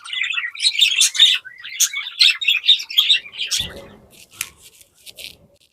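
Parrots at a bird sanctuary near Nelapattu give a dense run of sharp chirps and squawks, loud and close, then thin out as a low rumble of handling noise and a few scattered calls follow.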